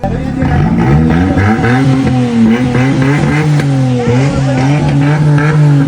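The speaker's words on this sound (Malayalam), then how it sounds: "അനിയന്മാർ വണ്ടി കണ്ടപ്പോൾ എക്സോസ്റ്റ് പൊടിക്കുന്ന സൗണ്ട് കേൾക്കണം എന്ന് പറഞ്ഞ നേരെ അവരുടെ ആഗ്രഹം സാധിച്ചു" A car's exhaust revs hard in repeated rising and falling bursts, loud and close, with a rough engine note cycling up and down for several seconds.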